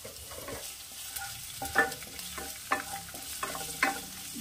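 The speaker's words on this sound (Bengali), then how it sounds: "দিয়ে দেব পেঁয়াজ কুচি, আদা কুচি।" Chopped onion and ginger fry in a pan for a noodle soup, with a soft continuous sizzle broken by several scraping stirs of a spatula at uneven intervals.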